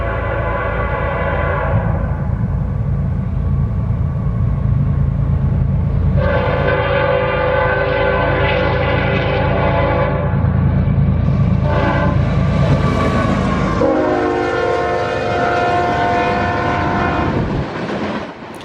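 A Norfolk Southern local freight, train E38, led long hood forward by an ES44AC locomotive in Salisbury, North Carolina, sounds a loud, sustained multi-tone horn in several long blasts over the close, heavy rumble of the passing train.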